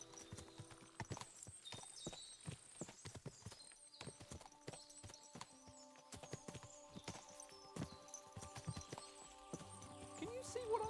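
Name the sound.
horses clip-clopping in Kingdom Come Deliverance 2 video game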